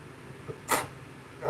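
A person sneezes once, a short, sharp burst against a quiet room, followed moments later by the start of another breathy sound.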